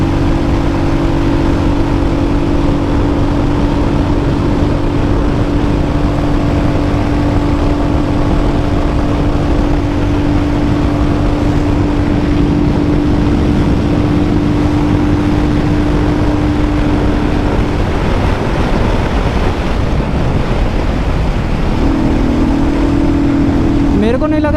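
A 2024 Hunter 350 motorcycle accelerating hard in fifth gear, a loud continuous engine drone with heavy wind rush, steady pitch that briefly shifts near the end, with a voice talking over it.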